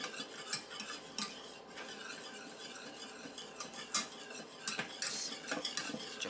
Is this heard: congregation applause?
no